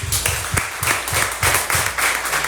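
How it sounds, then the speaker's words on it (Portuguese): Worship congregation in church clapping for Jesus, rhythmic group hand claps falling in a steady pulsing beat with low thumping accents, loud and close, continuing without a break. "Bata palmas para Jesus"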